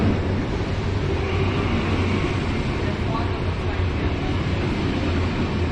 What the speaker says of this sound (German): Bahn kommt.